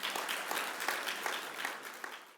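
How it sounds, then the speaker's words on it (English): An audience at a chemtrail summit applauds to welcome a speaker: steady, dense clapping from a crowd, fairly faint and distant across the whole stretch. "So let's give him a round of applause,"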